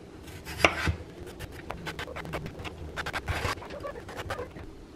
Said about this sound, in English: I just chopped up a few potatoes